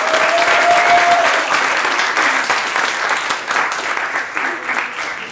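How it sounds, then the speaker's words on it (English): Open mic crowd in Dearborn breaks into loud, sustained applause, dense clapping that stays strong for over five seconds and tapers slightly toward the end, with a voice briefly audible near the start. "Let's all give him a big round of applause."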